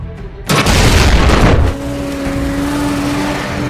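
A loud explosion at a fuel depot in a war film bursts in suddenly and roars for about a second, then settles into a lingering rumble with a steady tone.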